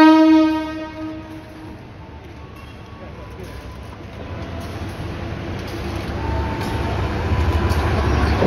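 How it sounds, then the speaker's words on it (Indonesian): The electric locomotive Bon Bon sounds a loud, sustained horn blast as it approaches, then the horn gives way to a steadily building rumble of wheels and motors that grows louder as it nears. "berjalan ke sini lokomotif Bonbon."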